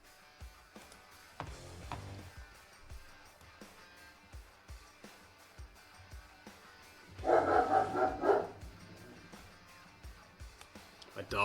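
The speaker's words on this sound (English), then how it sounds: "My dogs are all keyed up today." Several excited dogs bark in a short, loud burst of overlapping yips at mid-distance, with quieter taps and movement around it and no talk.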